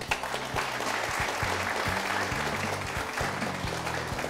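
A studio audience at a Korean Christian talk-concert broadcast applauds as an elder is welcomed onto the stage, a full, even round of clapping that holds steady for several seconds, with a low musical tone underneath.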